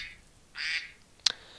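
A duck-quack text message alert plays as a short, faint, nasal electronic quack followed by a sharp brief click, alone against quiet background hiss.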